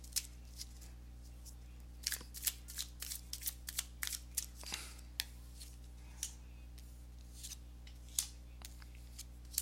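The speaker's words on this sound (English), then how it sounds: "let me go ahead and give these cards a shuffle" Tarot cards being shuffled by hand, a quiet run of crisp riffling snaps and ticks in irregular bursts, close up against a faint background hum.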